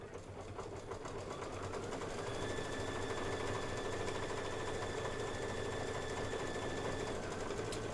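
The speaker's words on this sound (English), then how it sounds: "This is going to be 4 minutes of stitching." An embroidery sewing machine stitches a Kimberbell design, a steady, continuous mechanical whir with a fast even rhythm and faint tonal hum, close and loud throughout with no talking.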